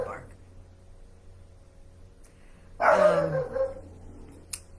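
A dog indoors gives one short, fairly loud burst of barking and yipping that falls in pitch, set against a quiet room with a faint tone beneath and silence before it.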